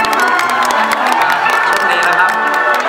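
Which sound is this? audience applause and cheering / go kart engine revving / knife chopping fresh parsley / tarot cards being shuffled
audience applause and cheering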